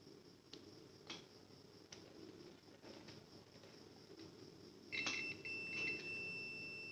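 Sanwa CD800a digital multimeter continuity buzzer testing a cable, a steady thin electronic tone that starts near the end and holds, preceded by faint ticks and handling clicks in a quiet room.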